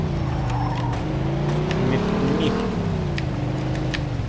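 Car driving in Mafia 2: Jimmy's Vendetta, a steady engine drone with shifting pitch as it cruises, close and continuous, with someone talking over it.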